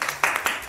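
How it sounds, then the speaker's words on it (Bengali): A group of people claps their hands together in a short burst of several quick, fairly close claps, with no talking heard. "চলো হাততালি দাও সবাই মিলে একটা"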